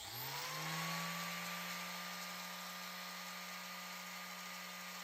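A bench grinder spins up and then runs with a steady, even electric whine and hum, close by and alone, the pitch settling after a brief rising start.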